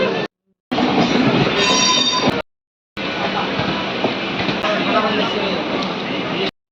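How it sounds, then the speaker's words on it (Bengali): Rumbling noise of a departing train with clattering wheels rolls on in loud, broadband stretches broken by brief silences, close up and continuous. "ট্রেন ছেড়ে দিয়েছে"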